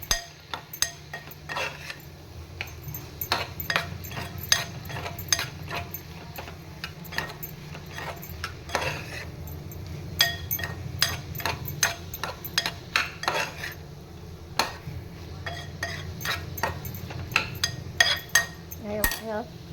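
Onion, tomato and bombil fish being sautéed in a salted pan, heard as a steady run of spoon scrapes and metallic clinks against the pan, close and fairly loud throughout, with no sizzle standing out.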